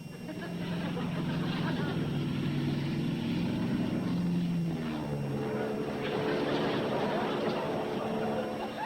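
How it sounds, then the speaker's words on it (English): A propeller airplane flies overhead, its engine a continuous droning roar with shifting pitch as it passes, heard under excited voices talking throughout. "She's flying the plane crooked. She doesn't have the wings even."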